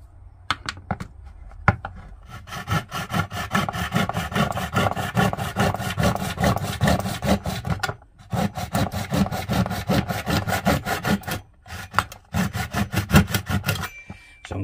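A handsaw cutting through wood pieces in a home workshop, loud rhythmic rasping strokes in quick succession with short pauses between bursts, close and with no talking.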